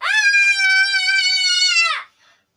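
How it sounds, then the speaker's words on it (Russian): A small girl lets out one long, loud, piercing scream lasting about two seconds, close and steady in pitch, ending abruptly in a brief faint tail. "Можно еще кричать. Еще сильнее даже."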